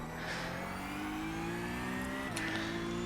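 Porsche Cup race car accelerating to full throttle, heard from inside as a steady, rising engine drone with a brief dip near the end, a continuous close hum.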